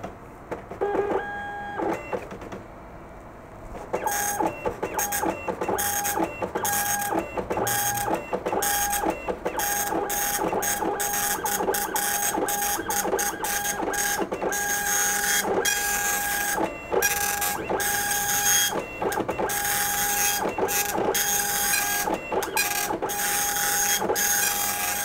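A 1991 Fujitsu DL3600 dot matrix printer runs its self-test, a loud close buzzing rasp of print-head passes broken by rhythmic short pauses as the carriage returns, continuous for the full stretch after a quieter start.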